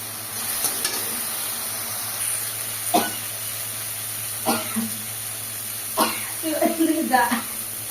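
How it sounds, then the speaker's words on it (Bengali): A steady sizzle from a hot pan as spice paste is stir-fried, with occasional scraping stirs and clinks of a spoon against the pan. "দেখতে থাকুন, আমি কষিয়ে নিচ্ছি।"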